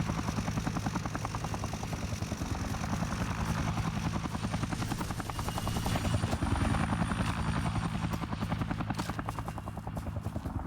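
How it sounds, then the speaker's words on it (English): A helicopter flies in the video game Dead Rising Deluxe Remaster, its rotor thumping in a rapid, steady chop with an engine whine, fairly close and continuous for the whole stretch with no talk. "I'm still not sure if you can even destroy that helicopter"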